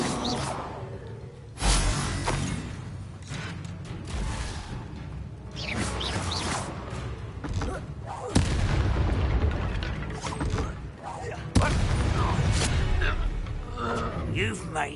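Repeated blasting-spell explosions in the Hogwarts Legacy video game, several booming bursts with whooshes spread across a loud, busy combat mix, with a voice speaking over the action.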